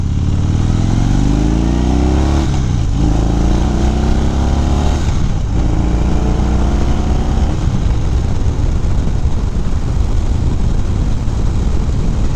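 Harley-Davidson Fat Bob fitted with Screamin' Eagle Street Performance staggered dual mufflers, a loud, deep, close engine note with rising revs that swell and drop back several times before settling into a sustained throaty roar.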